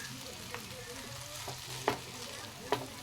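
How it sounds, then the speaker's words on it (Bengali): Cooked rice stirred in a pan for sweetish fried rice, a quiet soft sizzle broken by a few scraping spatula strokes, the clearest near the middle and toward the end. "সব ভাতগুলো ঢেলে দিয়েছি, এবার ভালো করে আমি নাড়িয়ে নেব"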